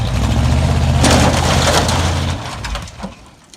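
A squarebody Chevy pickup engine, worked on during bed removal, rumbles and rises as it is given gas, with crunching and scraping noise over the top before the engine drops away near the end.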